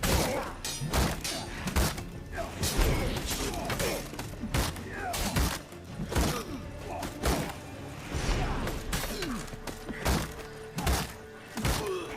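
An explosion goes off in The Witcher 3: Hearts of Stone, with dense clattering thuds, shattering crashes and whooshes running through a loud, chaotic game mix.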